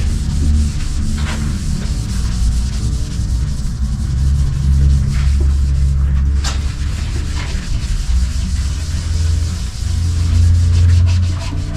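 Steady, continuous fine-grit sanding of a wipe-on polyurethane finish on a live edge coffee table, with a soft rubbing texture and a low rumble beneath, close and fairly loud, with a few brief scrapes.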